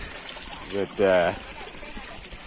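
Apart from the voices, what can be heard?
water running from a faucet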